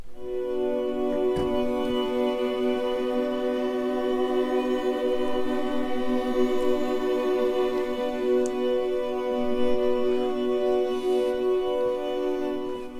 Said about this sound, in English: you can combine the bends with the free tremolo